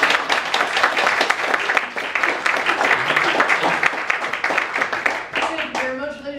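An audience gives a storyteller a warm welcome with brisk, dense hand clapping that holds steady, then thins out near the end as a voice begins.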